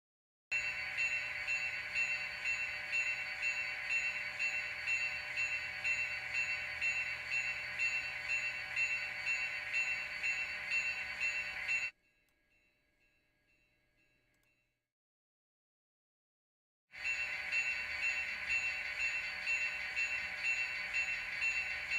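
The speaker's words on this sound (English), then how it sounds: "you hear the train too, dinging" A train bell dings in a fast, steady repeating ring, loud and continuous, cutting out abruptly for a few seconds before resuming, with no voices.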